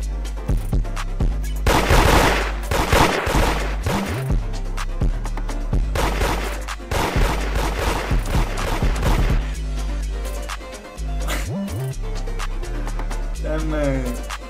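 Gunfire in the Roblox game Da Hood comes in rapid bursts of repeated shots, loud and close, with quieter gaps between volleys. Voices talk over the shooting.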